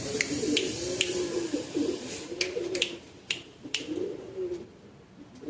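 Low, rolling pigeon coos repeat steadily close by at a pigeon loft, with sharp clicks and a few faint chirps scattered over them.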